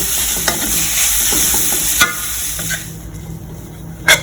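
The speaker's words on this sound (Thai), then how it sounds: "อันนี้เราก็ผัดไปสักพักหนึ่ง" Jute leaves are stir-fried in a pan for a Thai dish, giving a loud close sizzle with busy stirring scrapes, a few sharp spatula knocks, and a fading hiss near the end.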